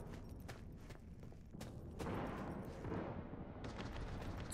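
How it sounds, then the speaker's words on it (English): Street gunfire in the video game Cyberpunk 2077: sharp shots and rapid bursts crackle one after another, building into a dense, sustained rumble of fire. "I hear lots of gunfire out there."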